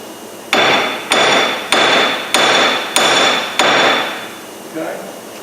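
Hammer blows knocking off a seized wheel bearing hub on a 1999 Jeep Grand Cherokee: six loud, evenly spaced metallic strikes about half a second apart, each ringing briefly, followed by a softer seventh hit.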